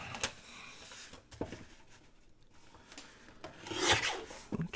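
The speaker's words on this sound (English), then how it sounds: "I am going to start off by cutting the ends of this" Scissors trimming open the ends of a paper junk mail envelope, a few close rasping snips and rubs of paper, quiet with brief louder cuts near the end.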